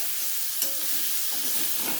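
Ginger sizzles in a hot pan of oil for a chicken curry, a steady, close frying hiss that runs unbroken, with one small click partway through.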